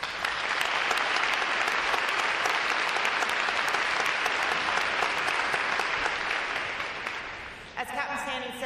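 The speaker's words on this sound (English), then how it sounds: "I'd like to give another great round of applause to those other folks supporting the ceremony today" Large audience at a Navy recruit training command graduation ceremony gives a loud, sustained round of applause that fills the space steadily for several seconds, then fades out near the end.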